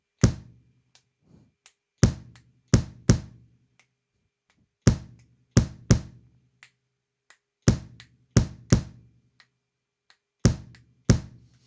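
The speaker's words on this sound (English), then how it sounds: "So in bar number 1, the bass drum pattern sounds like this." Isolated bass drum hits play alone in a sparse pattern, single thumps and quick doubles, close and punchy with silence between.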